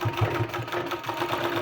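Sewing machine stitching a flower design on a sleeve, running with a steady, fast mechanical whir and pulsing rhythm close by, continuous throughout with no talking.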